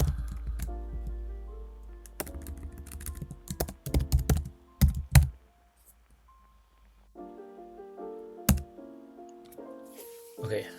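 Quick, close computer keyboard typing as text is entered in a Linux file editor, with dense runs of keystrokes, a short gap, then more keys under a faint steady tone.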